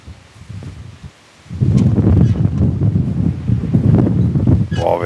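Strong wind buffeting a microphone during a motorcycle tour in Corsica, a brief lull and then a heavy, continuous roaring rumble that stays loud to the end.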